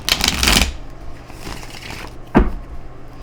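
Playing cards being handled and shuffled, a dense close riffle in the first half second, then quieter handling, with one sharp snap or tap near the end.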